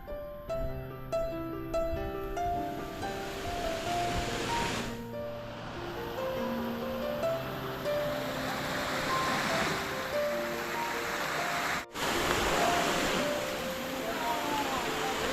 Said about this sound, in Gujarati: જો અહીંયા પાણી જો કેટલું પાણી જઈ રહ્યું છે અને સુંદર મજાનો આગળ ધોધ છે